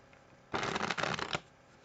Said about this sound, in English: And then perform the cut. And that's the strip cut false shuffle.